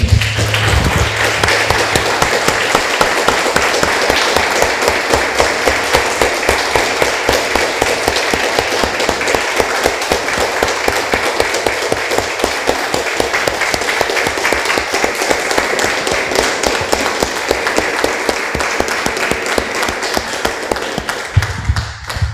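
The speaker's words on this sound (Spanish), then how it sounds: "Damos un aplauso, hermanos." Church congregation applauding at a service, a dense, loud and steady wash of clapping hands that lasts throughout with no pauses.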